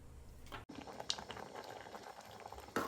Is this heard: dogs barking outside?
no